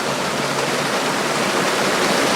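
River water flowing steadily over a creek bed, a loud, continuous broadband rush with no breaks and no voices.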